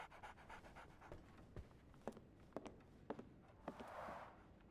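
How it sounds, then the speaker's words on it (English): A dog pants steadily in the video game Sherlock Holmes The Awakened, quick close breaths with a few sharp taps like footsteps and a hissy rush near the end. "So, Barnes has a dog now."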